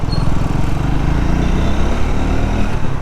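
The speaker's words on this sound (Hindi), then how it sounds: "अभी यहाँ पे थोड़ा सा भगाते हैं बाइक को हल्का सा।" A Triumph Scrambler 350 X motorcycle engine revs close up under gentle acceleration, a loud, steady low throbbing rumble with no pauses.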